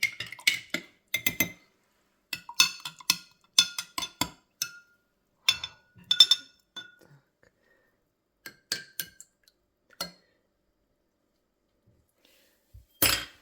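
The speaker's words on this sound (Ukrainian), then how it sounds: "Накриваємо кришками, закутуємо рушник" Lids being put on glass jars of homemade rose-petal yogurt, a close series of light clinks and taps in quick clusters, then a pause and one last louder knock.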